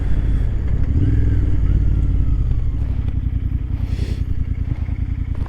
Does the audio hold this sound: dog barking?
no